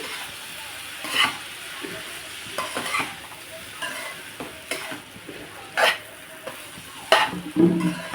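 Lemon rice stirred in a pan on low heat, a soft background sizzle broken by intermittent scraping strokes of a spoon against the pan, close and fairly quiet.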